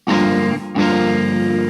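Electric guitar in a live indie rock setting, played in an awkward, bass-heavy pickup position: two loud, buzzy strummed chords, the first cut short and the second ringing out, with no talking.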